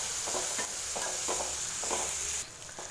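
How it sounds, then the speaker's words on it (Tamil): Small chopped tomatoes and masala powders sauté in a pan, a constant close sizzle broken by rhythmic spatula stirs and scrapes, with no talking. "ஆட் பண்ணிட்டு தக்காளி நல்லா வதங்கணும்"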